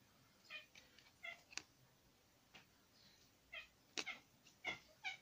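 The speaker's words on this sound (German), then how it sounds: "Die Katze miaut." Several soft, faint meows from a cat, spaced irregularly in a quiet room, with a few small clicks between the calls.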